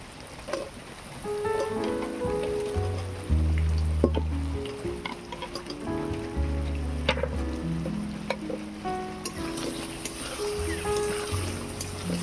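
Fried potatoes go into a pan of sizzling spice masala for a banana-flower kofta curry, giving a steady, close frying sizzle and crackle throughout, with sustained tonal sounds layered over it.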